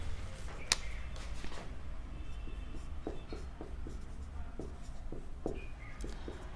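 Pen scratching across paper while observations are written down during a vernier caliper measurement lesson, a series of short soft strokes over steady low background hum, close and fairly quiet.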